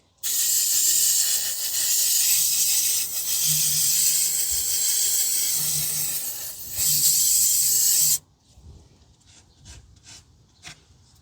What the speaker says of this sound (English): You don't want to spray too much, just enough to clean the area down.